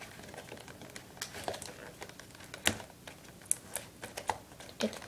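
Packaging for a Rock-it 2.0 portable speaker crinkles and tape peels off in close, irregular bursts of small crackles, snaps and rustles, with no talking.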